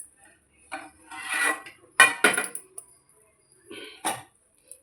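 A metal lid lifted off a pot of cooked wheat upma in a home kitchen, giving a few sharp clinks and scrapes of cookware with quieter handling rustles between them and no talk.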